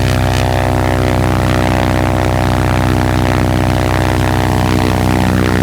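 Strong wind at 30 to 40 mph blasts against a North Face VE25 tent, a loud, unbroken roar layered with a steady droning hum throughout.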